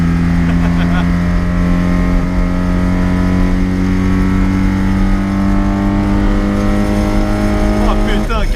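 A 1980 Mitsubishi Minica drives along at speed, its small engine giving a loud, steady, droning hum with a strong low tone throughout. Someone talks over it.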